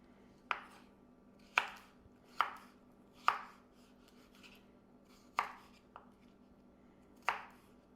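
A knife cutting cucumber into cubes on a board, seven crisp separate chops spaced about a second apart, close and clear over a quiet kitchen hum.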